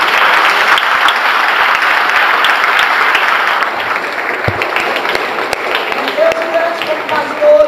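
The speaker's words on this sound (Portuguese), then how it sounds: "Você pode dar um aplauso ao Senhor?" A congregation at a church conference applauds, sustained dense clapping close and loud throughout, easing slightly midway, with a voice speaking over it near the end.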